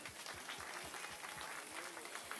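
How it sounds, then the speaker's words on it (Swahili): A crowd applauds with dense, continuous clapping throughout, fairly distant and steady. "Tumpigie makofi"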